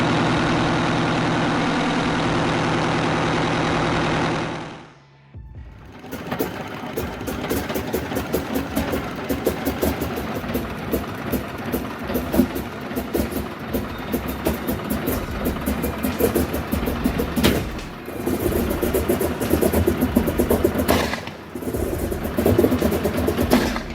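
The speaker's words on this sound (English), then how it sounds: "the Detroit 8V92TA erupted into life, filling the harbor with raw sound." A Detroit Diesel 8V92TA marine engine rumbles into a steady, loud idle after a short break in a harbor, its low, rapid thrumming continuing unbroken and close.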